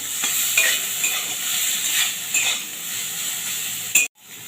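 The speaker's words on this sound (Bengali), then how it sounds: "এবারে ভাপি রাখা সয়াবিনটা দিয়ে দিচ্ছি সয়াবিনটাকে আমি একটু ভেজে নেব" Soaked, steamed soybean chunks fry in oil in a pan, giving a steady sizzle with several stirring scrapes before a brief clatter and a sudden stop.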